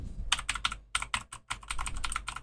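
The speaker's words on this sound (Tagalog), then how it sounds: "Itong aking mechanical keyboard is blue switch to eh." Rapid bursts of clicky keystrokes on an Onikuma G80 mechanical keyboard with blue switches, close and crisp, in uneven typing rhythm with brief pauses.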